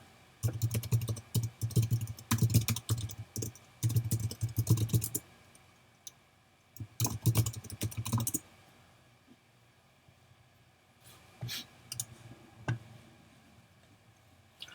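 A computer keyboard is typed on in quick bursts of clicky keystrokes while someone logs in to an ESPN Fantasy Football account, the bursts separated by short pauses and a few scattered taps near the end.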